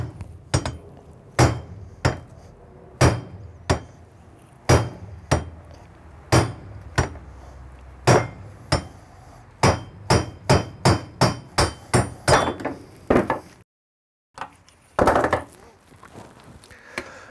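Heavy hammer blows striking a wheel bearing to drive it out of an Audi TT hub, about two dozen sharp metallic impacts at irregular intervals, speeding up toward the end, close and loud, with a brief silence near the finish.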